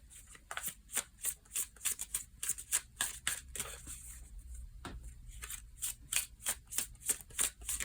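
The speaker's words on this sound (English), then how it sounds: "I'm just going to move some of these cards" Tarot cards being moved and handled on a reading table: close, crisp snaps and slides repeat in a quick, fairly even rhythm.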